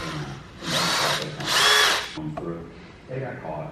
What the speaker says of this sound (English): I need to drill one more down here at the bottom